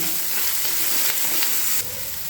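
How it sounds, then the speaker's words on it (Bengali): Tomato and spice masala sautéing in a pan for a vegetarian dish, a steady close sizzle with faint stirring scrapes, loud and continuous before easing slightly near the end. "সব কিছু মিশিয়ে নিয়ে মশলাটাকে আগে একটু কষিয়ে নিচ্ছি"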